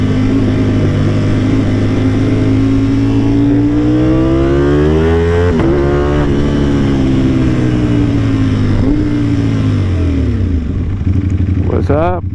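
A Ducati Panigale motorcycle engine revs loudly and up close, its pitch rising and falling in repeated sweeps, with a sharp high rev burst near the end.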